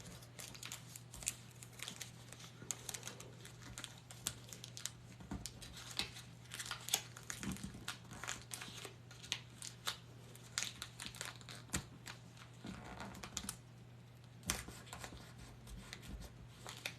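Scotch tape is pulled and wrapped around a printed regular-paper wrapper for a snack-size Hershey bar, giving repeated close crinkles, rustles and sharp tearing ticks in an irregular, busy rhythm with no speech.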